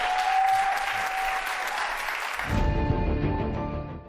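Studio audience applause on a Turkish daytime talk show, a dense, steady wash of clapping from a sizable crowd that holds for several seconds, with a music sting entering partway through.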